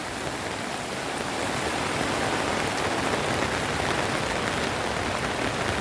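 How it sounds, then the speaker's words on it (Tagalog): Heavy typhoon rain pours down alongside a rushing, flooding river, forming a loud, constant roar that swells slightly after the first second. "tubig at ang ulan."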